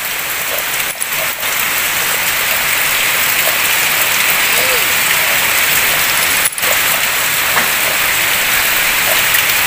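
Steady heavy rain falls throughout on an outdoor scene in India near an old banyan tree, a dense continuous hiss with a couple of brief sharp knocks, no voices.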